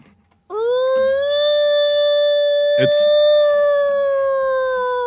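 A human voice imitates a siren with a single long, steady wailing tone held for several seconds, loud and close, with a brief clatter partway through.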